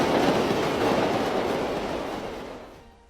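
A train rushes past in a film scene, a loud broadband rumble with rail clatter that holds steady, then fades away over about three seconds.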